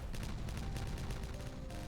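A detonation in the beaver colony-building game Timberborn, heard as a dense, continuous roar of crackling blasts with rapid rumbling bursts and no quiet gaps across its short length.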